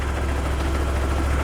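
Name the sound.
motorcycle engine running in second gear on centre stand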